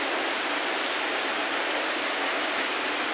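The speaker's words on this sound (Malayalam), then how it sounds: "നല്ല മഴ കേട്ടോ" Steady, dense rushing of heavy rain, an even wash of noise with no pauses.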